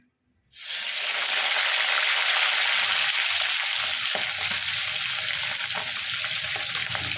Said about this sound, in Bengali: মাছের মাথাটা ভেজে নিয়ে ফেরত আসছি।